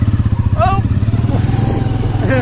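A motorcycle carrying four riders chugs with a steady, pulsing engine throb close by, while someone talks over it and brief higher whines cut through.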